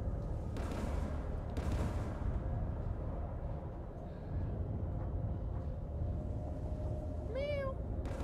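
A pet cat gives a single short meow near the end, fairly close, over a steady background of game sounds with two dull booms early on.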